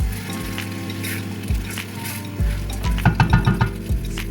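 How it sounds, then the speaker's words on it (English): Pepper and onions blended together are stirred into a sizzling pot while cooking coconut rice, with steady frying hiss and a run of short scraping, clinking strokes toward the end. "Give the pepper and onions blended together, add it inside."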